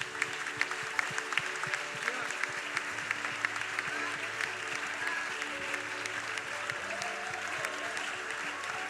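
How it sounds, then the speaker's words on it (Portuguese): A church congregation applauds during a service, steady clapping holding at an even level with soft tonal music and a voice underneath. "Vamos aplaudir a Ele."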